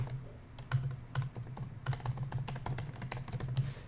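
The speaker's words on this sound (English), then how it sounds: "here I'll just kind of type in what I want it to say" Fingers type on a computer keyboard up close, producing a soft, quiet string of irregular key clicks and taps with brief pauses, alone without any talk.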